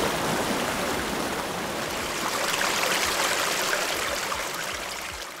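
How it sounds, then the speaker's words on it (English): A river flowing steadily at moderate intensity, a continuous broadband rush of water that stays even throughout and fades slightly at the end. "Rivers flowing with differing intensities."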